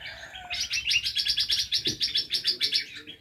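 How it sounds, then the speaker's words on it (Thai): Birds chirp in quick repeated bursts for several seconds, bright and fairly close, with no voices around. "เสียงนกเสียงอะไรก็ร้องนะครับ"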